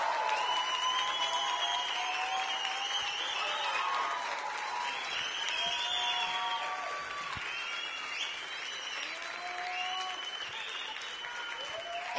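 Audience applause for the singer on stage, sustained steady clapping from a crowd heard at moderate distance, with whistles and a voice rising above the clapping throughout.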